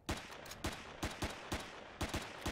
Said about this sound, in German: Ich schieße jetzt hier das Fenster auf, ne?